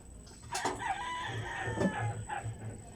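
Fowl call outdoors near a fish pond, with a rooster-like crow and clucking rising over steady ambient noise at mid distance.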